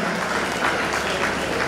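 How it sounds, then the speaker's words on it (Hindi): Audience applause at a public reception honouring the Governor of Assam, a steady dense clapping throughout at moderate loudness with no talk over it. "जोरदार तालियों से महामहिम आदरणीय श्री गुलाब जी कटारिया का अभिनंदन।"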